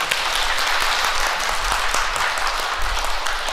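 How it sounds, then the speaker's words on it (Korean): Steady applause in a church congregation welcoming a new assistant priest, a dense even clapping texture with no talk. "박수로 만납니다"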